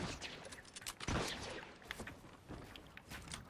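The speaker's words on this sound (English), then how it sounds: "this guy's using an SMG now." Rapid SMG gunfire rattles in bursts in the video game Fortnite, quiet overall, with one louder blast near the middle and scattered shots and footsteps around it.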